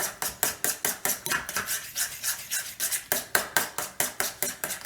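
Cold beer and egg are whisked together in a bowl, the whisk clicking against the sides in a quick, steady rhythm of repeated strokes, close and clear with no talking.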